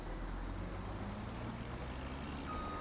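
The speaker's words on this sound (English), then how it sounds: "I really like that startup sound." A vehicle engine idles in Farming Simulator 17, likely a combine near a forestry mulcher, giving a steady low rumble that holds level throughout with no talking.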